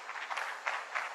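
Audience clapping for a speaker at an economic forum, a soft, scattered patter of hands in a hall with faint pulses of louder claps.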